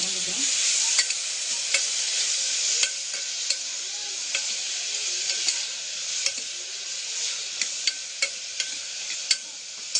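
Onions and tomatoes fry in a pan, a steady close sizzle with repeated scraping stirs at an irregular rhythm, no voices.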